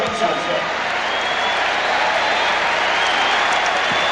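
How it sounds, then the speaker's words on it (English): A basketball crowd at Madison Square Garden in a 1997 Knicks versus Heat playoff game reacts to a replay, a broad, steady wash of applause and crowd noise heard at moderate loudness throughout. "Crowd is reacting to the replay here at Madison Square Garden."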